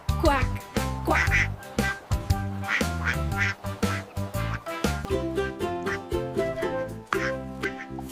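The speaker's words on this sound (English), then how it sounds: "Mother Duck said, "Quack, quack, quack, quack, quack."" Cartoonish duck quacks repeat in quick bursts over a bouncy children's nursery-rhyme song about five little ducks, with singing voices and instruments throughout.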